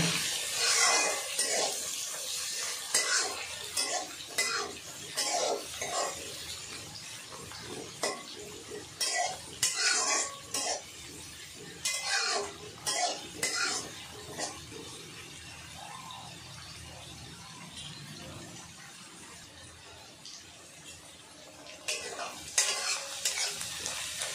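Chopped onions fried in a pan toward golden brown, with a continuous oily sizzle beneath repeated spoon scrapes and clatters against the metal, close and busy throughout, easing off slightly near the end.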